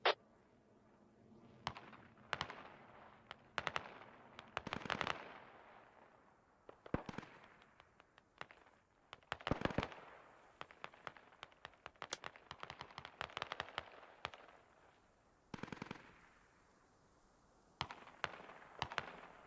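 Gunfire in the video game Squad: irregular single shots and rapid bursts, some sharp and close, others softer, all fairly quiet overall and spread across a long stretch.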